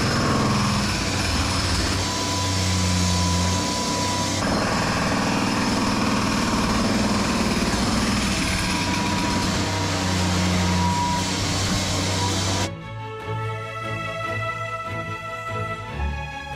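A rental machine with a boom runs its engine loudly and steadily for a long stretch. Then the sound drops sharply to a quieter, lighter, buzzing tone.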